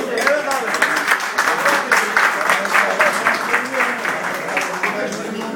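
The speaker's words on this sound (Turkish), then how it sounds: "Rayhan Bey'i alkışlıyoruz." Audience at a retirement night gathering claps in loud, close applause with a rhythmic, pulsing texture, a few voices faintly audible beneath it.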